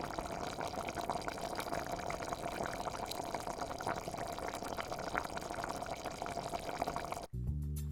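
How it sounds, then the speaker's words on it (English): Creamy roasted Hokkaido pumpkin soup simmers in a pot with a steady, dense bubbling hiss that holds level throughout, then cuts off abruptly near the end. "I let them simmer for another couple of minutes to ensure all the different flavors are combined"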